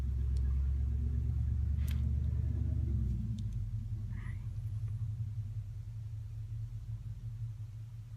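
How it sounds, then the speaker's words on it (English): A car engine rumbles loudly nearby, then fades gradually as the vehicle moves off down the street. "That's actually a really nice sounding engine."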